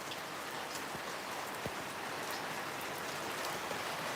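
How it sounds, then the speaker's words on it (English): Steady rain falls in a dense, even hiss of drops on surfaces, close and constant throughout with no other sounds. "this bit of rain here is going to save the farmers an absolute fortune"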